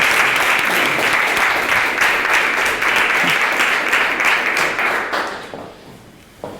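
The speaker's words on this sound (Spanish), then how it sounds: "¿Te podemos aplaudir?" An audience at a talk bursts into sustained applause, thick and loud at first, then thinning and fading out in the final seconds.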